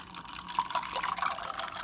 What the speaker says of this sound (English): we're just going to top that off with some tonic water